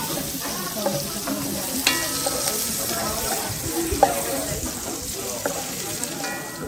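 Chicken pieces browning in caramel in a pan for a Réunion-style poulet caramel give a steady close sizzle and fry, with occasional stirring scrapes and light clinks throughout.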